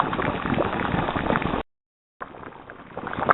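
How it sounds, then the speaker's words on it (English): Steady bubbling and seething from a boiling water bath around jars of homemade dill pickles being canned; the dense, continuous boil cuts out for about half a second midway, then resumes slightly quieter. "That's the moisture inside the jar turning to steam, popping to the top"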